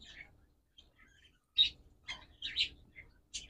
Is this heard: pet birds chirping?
yes